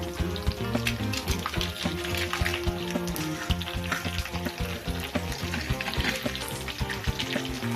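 Dried red chillies and green chillies frying in hot oil for a coconut and amla pachadi, a dense, continuous close-up sizzle with crackling pops and no voices.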